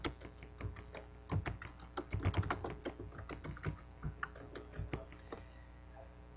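Someone types a message on a computer keyboard: a steady run of quick, close key clicks with brief pauses and a few louder taps, no voices.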